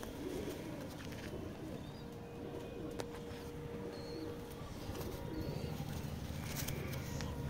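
Pigeons coo softly among steady background hiss, with low repeated calls and a few higher chirps scattered through the quiet scene.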